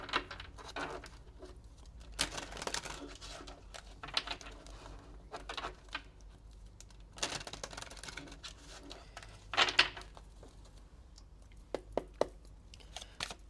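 Tarot clarifier cards are shuffled close up in bursts of papery riffling and tapping, with short pauses between bursts and no talking.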